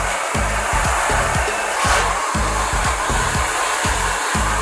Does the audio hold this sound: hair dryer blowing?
yes